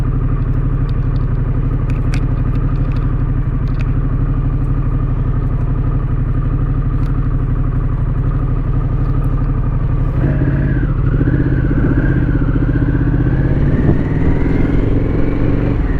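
A Harley-Davidson Pan America fitted with a Vance & Hines exhaust rumbles loudly and steadily while riding, the engine note rising as it accelerates partway through, up close over constant wind and road noise.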